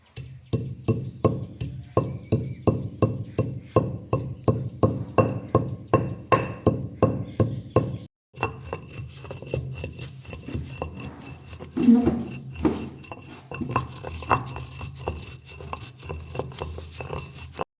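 Cumin seeds pounded with a stone pestle in a stone mortar for a peanut chutney powder, a steady run of close, regular thuds for about eight seconds, then softer grinding and scraping with scattered knocks.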